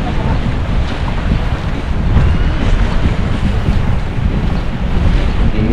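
Wind buffets the microphone over rolling sea waves at a free public beach in Kuwait, making a loud, continuous roaring wash that swells slightly midway, with no clear talk.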